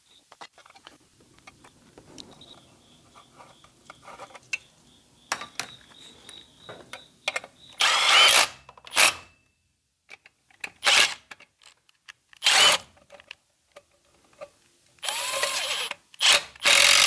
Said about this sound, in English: when in doubt, rotary tool it out